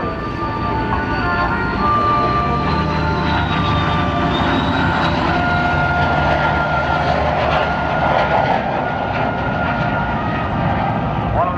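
A loud, sustained roar of F/A-18 Hornet jets passing overhead at the NAS Oceana air show, with a shifting whine riding over a rumbling engine drone that fills the whole stretch.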